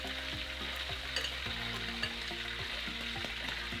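Luncheon meat fries in a pan with a continuous, close hiss and crackle, while a utensil stirs and scrapes through it at intervals; no one talks.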